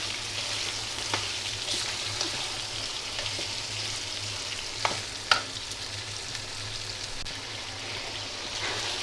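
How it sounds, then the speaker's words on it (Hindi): Chicken pieces fry in a pan for a chicken curry, giving a steady close sizzle with a few sharp pops and stirring clinks. "ये देखिए, ये मेरा चिकन फ्राई हो रहा है बहुत अच्छे तरीके से।"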